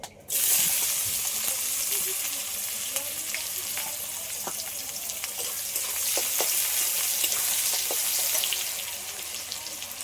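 Chopped onion dropped into hot oil with bay leaf and chili, bursting into a loud sizzle after a brief pause, then a dense, steady crackling fry with occasional stirring clicks, close by.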